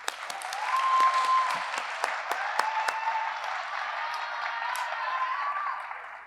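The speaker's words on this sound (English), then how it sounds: "all of our teams deserve a round of applause for all that they do in our community" An audience at a community service awards ceremony breaks into steady, sustained applause, many hands clapping densely and evenly for several seconds.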